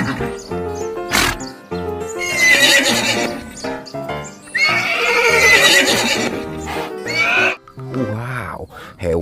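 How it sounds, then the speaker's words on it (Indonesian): A horse in a shooting game neighs and whinnies loudly while hooves clip-clop at a gallop, mixed with other game effects in a dense, busy soundscape. "Lihat, ternyata ada kuda."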